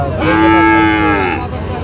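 A Sahiwal bull at a busy cattle market in Ambari, Dinajpur gives one loud, close, drawn-out moo lasting about a second, with a steady crowd murmur behind it.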